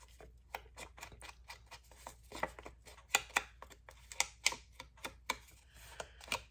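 Scissors snipping close around a stamped image on paper, a quick series of crisp, near clicks and snips in an uneven rhythm, with no talking.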